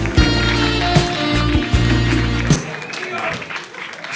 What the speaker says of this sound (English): Round of applause for Diana as she comes here to the stage.